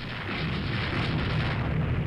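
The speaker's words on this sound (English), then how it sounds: "We hit an enemy Freya-class heavy cruiser with a torpedo." A sustained, heavy rumbling boom from a torpedo hitting a Freya-class heavy cruiser in the naval game Rule the Waves 2, dense and steady for about two seconds with no pause.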